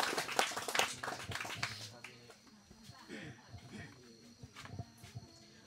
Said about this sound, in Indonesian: Kita berikan tepuk tangan untuk Romo Eli